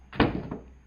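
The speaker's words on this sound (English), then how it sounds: "When I open the door" A Porsche 996 car door opening, a single short thunk with a brief mechanical clunk and a fading rattle, close and alone.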